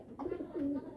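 A pigeon gives a single short, soft, throaty coo in two quick parts. It is close and heard alone.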